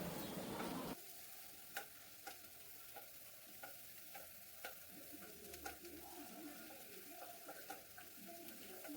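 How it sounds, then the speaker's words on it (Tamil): Onions sizzle steadily in a hot pan with a little turmeric, with soft scraping and stirring ticks scattered throughout; a louder burst of noise opens the first second, no voices. "வெங்காயம் வதங்கையில் கொஞ்சமாக மஞ்சத்தூள் சேர்த்து வதக்கிக்கிறேன்."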